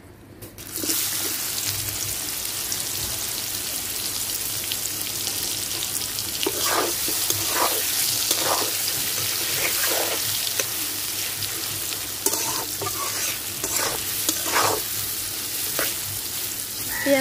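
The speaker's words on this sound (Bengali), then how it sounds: "পেঁয়াজটা লাল লাল করে ভাজা নেব।" Chopped onion sizzles steadily in hot oil in a pan while it is stirred, with scraping clicks recurring through the frying, as part of a Kolkata-style chicken dak bungalow curry cooked at home.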